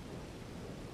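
Rain falls in a Red Dead Redemption roleplay game, a steady low, dense hiss with a faint rumble of thunder beneath, even and continuous throughout, with no voices over it.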